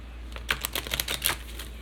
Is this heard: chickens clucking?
no